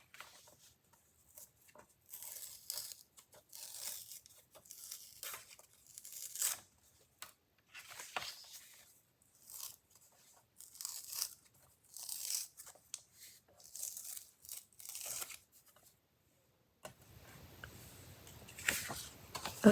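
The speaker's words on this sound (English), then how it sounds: "going to very carefully peel away these little pieces here on the end" Small pieces of paper card are peeled away by hand, producing close, quiet tearing and crinkling rips in short irregular bursts separated by silences.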